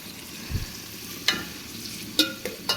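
Onions and two bay leaves sizzle in hot oil in a pan, a steady close frying hiss broken by a few sharp clicks of stirring.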